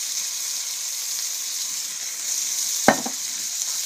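Woodcock fries in an overheated pan with oil, making a steady, even hiss; a single sharp clack of a utensil sounds near the end.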